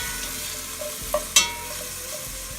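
Onions and carrots sautéing in a pan, a steady low sizzle with a couple of brief clicks of a utensil stirring through the vegetables, close and alone without talk.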